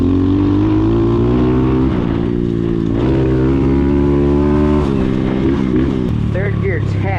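A 140cc dirt bike engine revs hard during burnouts on a pine-needle-covered surface, its loud, buzzy drone holding steady and then surging upward in pitch in repeated pulls.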